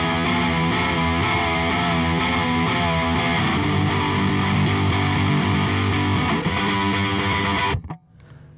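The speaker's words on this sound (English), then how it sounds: "my distortion tone is created by gain staging my always on pedal" Heavily distorted electric guitar through effects pedals, distortion from gain staging an always-on pedal, played continuously and loud, then abruptly cut off near the end.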